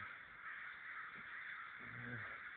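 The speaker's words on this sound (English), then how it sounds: "What you're hearing in the background, if you can hear that, is crows." Crows caw in the background, a few harsh calls near the end over a steady bed of noise.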